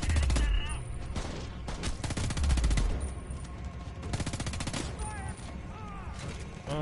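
Rapid bursts of gunfire from Homefront: The Revolution gameplay, repeated volleys of automatic shots crackling loudly through the whole stretch, with a voice talking in between.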